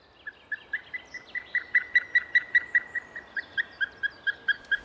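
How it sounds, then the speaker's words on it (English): A large bird of prey with a wingspan over two metres, calling along a wild river in the Netherlands: a steady series of about twenty evenly spaced, clear, plaintive notes, distant and alone against a quiet background. "Their plaintive call is distant."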